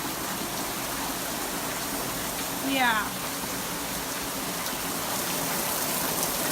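Steady heavy rain pours down in Florida as a close, constant hiss, with a brief voice and a short rising whistle-like sound partway through.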